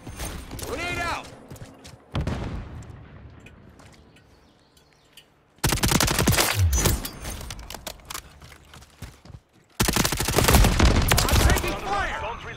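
Gunfire in Call of Duty: Modern Warfare 3 team deathmatch, loud bursts of rapid shots in separate clusters with quieter gaps between, close and harsh, with shouted in-game voices mixed in.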